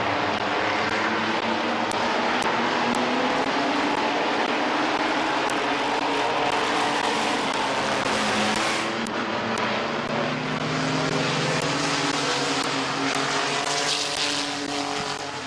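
Race trucks roaring around Midvale Speedway in a dense, continuous engine drone with overlapping pitches rising and falling as the field passes, loud and steady throughout.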